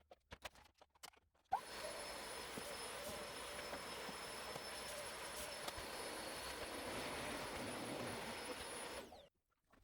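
Hoover vacuum cleaner running in a workshop during a mini virtual pinball table build, switching on after a few clicks and droning steadily for several seconds before cutting off.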